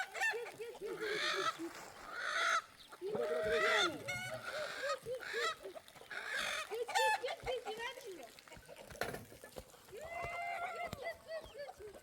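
Poultry on a riverside outing, with chickens clucking and honking, goose-like calls recurring through the scene, fairly close and busy, mixed with people talking nearby.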